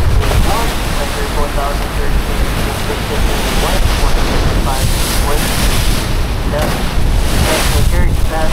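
Waves churned up in the Duluth Ship Canal as the 1,013-foot freighter Paul R. Tregurtha departs, a steady loud wash of surf and water under heavy wind noise, with faint voices in the background.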